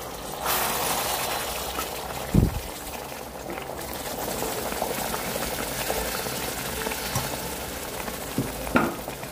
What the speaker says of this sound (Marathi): थोडी कढई गरम झाली ना की आपण त्याच्यामध्ये दूध ओततो